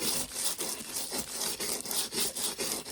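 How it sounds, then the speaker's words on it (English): Scrubbing a foil craft on a Dollar Tree glass plate with a scrub brush, a steady run of rhythmic, raspy back-and-forth strokes at close range with no talking. "So I'm scrubbing with a scrub brush."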